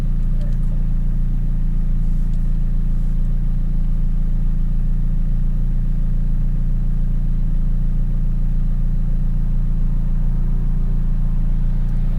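A McLaren 570S rolls out onto a race track, its engine droning low and steady from onboard with a constant deep rumble, while a person talks over it.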